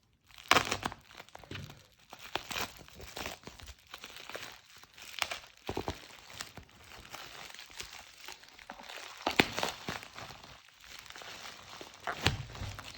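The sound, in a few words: cutting through bubble wrap on a Casio watch box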